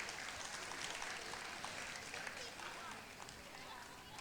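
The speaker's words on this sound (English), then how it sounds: "let's give a big round of applause to the kids here" Audience clapping for children at a guest artist demonstration, a fairly faint, continuous patter of applause that thins out toward the end, with talking over it.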